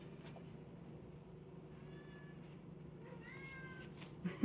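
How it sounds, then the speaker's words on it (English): An indoor house cat gives a few faint, thin meows at a distance over steady low room hum, with no talk. "I've got the cat meowing because he's not sure about being downstairs anymore"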